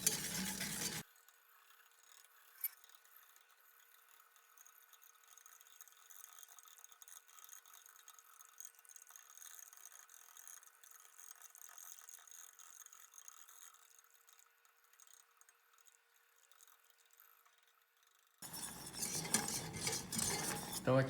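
Chocolate frosting for a carrot cake being stirred in a pan, a faint, continuous scraping and stirring with soft utensil clinks, framed by louder kitchen noise at the start and end.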